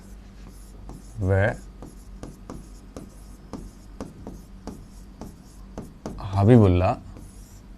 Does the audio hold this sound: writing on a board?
yes